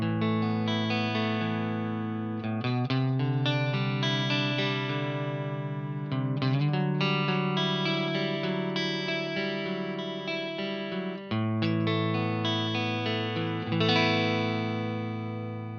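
Electric guitar played through a Victory V4 Countess preamp pedal into the power section of a Marshall amp, with channel 1 at low volume and flat EQ. The overdriven tone rings out in sustained chords and single notes, continuous and alone.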